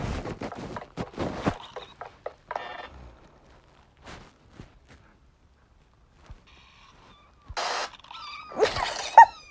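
A cat gives several short meows and a drawn-out, caterwauling cry, scattered across an otherwise quiet stretch, with a louder cluster of cries near the end.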